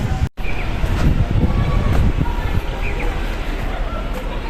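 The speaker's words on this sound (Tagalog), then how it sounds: "Malamig and malakas yung hangin." Continuous low rumble of strong, cold wind in Hong Kong buffeting the microphone, steady and loud throughout, with a brief dropout near the start.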